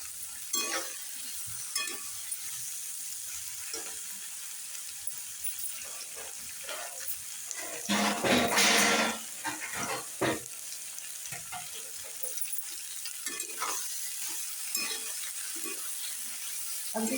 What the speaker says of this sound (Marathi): छान असे हलवून घेऊ आणि वाफ काढून घेऊ बरं का एक आपण त्याची.